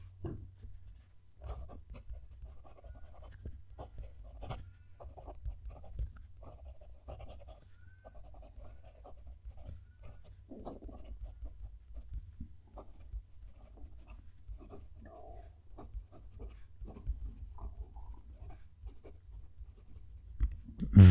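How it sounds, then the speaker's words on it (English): A gold-nibbed Pilot E95S fountain pen writes a sentence on paper, recorded close to the page as a soft, steady scratching with small strokes and pauses. "fetch out each pen now, and I'm going to write a sentence with them"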